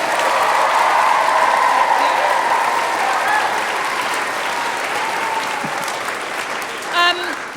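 An audience in a concert hall claps for a primary school choir's performance, steady and full applause that slowly thins, with a brief voice near the end.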